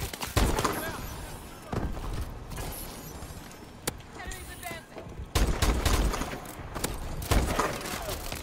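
Gunshots from a sniper rifle in a video game: sharp, loud cracks recur every second or two, some in quick clusters, over a busy background with faint voices talking.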